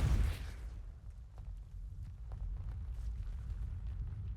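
A Depulso spell cast in Hogwarts Legacy, a sharp magical burst with a rushing whoosh up front that fades into low ambient rumble and faint scattered clicks.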